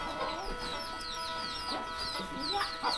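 Chickens cluck repeatedly around a house in a remote forest village without electricity, with scattered calls at moderate distance over a quiet outdoor background.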